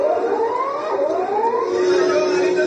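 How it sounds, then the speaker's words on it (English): Tsunami warning sirens in Ecuador wail steadily with rising and falling tones that overlap, loud and continuous throughout. "Tsunami sirens were heard in Ecuador"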